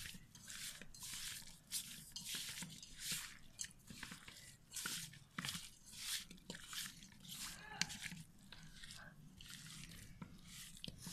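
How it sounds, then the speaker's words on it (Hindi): Hands rubbing spices over raw chicken: soft, wet squishing and slapping in a quick, regular rhythm, quiet and close, with faint background voices. "और हाथ की मदद से ये सारी चीजें इस चिकन के ऊपर मिक्स कर दूंगी।"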